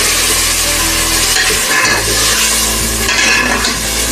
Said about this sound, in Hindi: प्याज ब्राउन हो चुका है, इसमें हम टमाटर डाल रहे हैं।